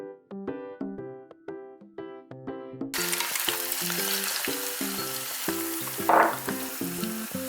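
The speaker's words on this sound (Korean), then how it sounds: "중불 정도의 세기에서요, 계란을 붙여주시면 돼요" An egg is fried in a pan over medium heat, a steady close sizzle that starts partway through and keeps going under light plucked background music.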